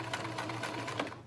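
A sewing machine stitches forward on a fabric seam in one short steady run under a voice giving instructions, moderately close and fairly quiet.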